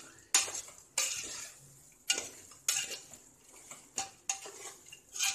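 A spoon scrapes and stirs biryani masala through country chicken (naatu kozhi) in a pot, with about seven sharp, close scraping strokes at an uneven rhythm and a low, quiet simmer between them.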